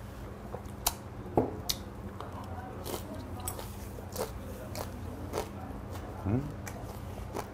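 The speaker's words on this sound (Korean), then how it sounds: "또 새우 대가리도 먹어줘야죠" Shrimp heads being eaten, with scattered close crunches and chewing clicks at an irregular rhythm and faint background noise between bites.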